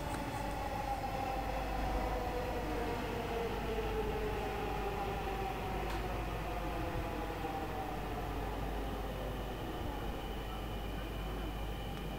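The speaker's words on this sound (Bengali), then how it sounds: "আমরা মেট্রো রেল করে মতিঝিল গিয়েছিলাম" Riding inside a Dhaka metro rail train to Motijheel, a constant loud rumble of wheels on track with faint drifting whine tones, steady and unbroken for the whole ride segment, no voices.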